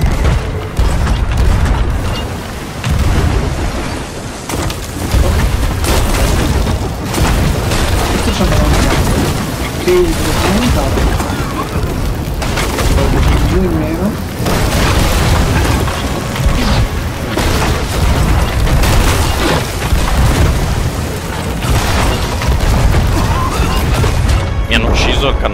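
Cannon fire from sailing warships in a naval video game booms and crashes heavily and almost continuously, a dense barrage of loud impacts with players' voices talking underneath.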